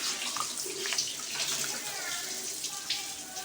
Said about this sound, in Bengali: মাছটা ধুয়ে দাও